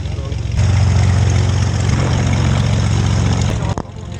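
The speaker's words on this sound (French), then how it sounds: "Je vois l'avion d'ici, mais je pense que vous allez pas le voir." Propeller airplane engine of a skydiving plane droning steadily nearby at a loud, constant level, with a brief rustle near the end and no clear talk over it.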